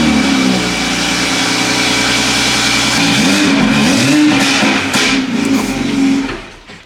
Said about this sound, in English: Weakest pops I've ever heard out of this fucking Supra.